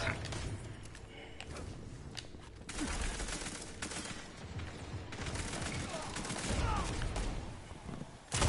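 Gunfire from the video game Destiny 2, with dense bursts of rapid shots and thumps from rifles and hand cannons that run almost without a break and are loud and busy throughout.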